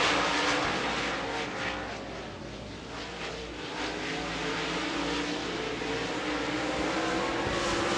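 Modified race cars in a Texas Outlaw Modified Series race roar around the oval at Devils Bowl Speedway, a loud, continuous, dense engine drone that swells and eases as the field rushes past.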